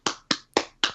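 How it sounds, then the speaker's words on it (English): Four sharp, close hand claps in about a second, evenly spaced and crisp, with no talking over them. "to dear God that's clapping"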